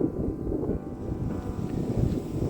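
Wind rushes steadily across a misty hilltop, a dull continuous buffeting roar with gusty swells and no talking.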